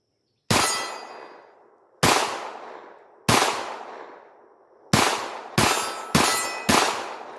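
Sig P322 pistol shots fired one-handed ring off a steel target outdoors, seven sharp cracks each followed by a decaying metallic clang, spaced about a second apart and then quickening near the end.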